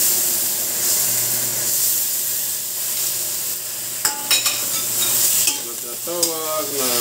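Pork belly sizzles loudly in a hot pan, a steady bright frying hiss with a few sharp spattering pops and stirring scrapes near the end, close up with no talk.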